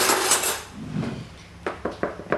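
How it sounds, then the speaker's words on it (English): A fork pricks a pizza base with several short, sharp taps of metal on dough against a pan, spaced out and fairly close. "So prick that again using a fork."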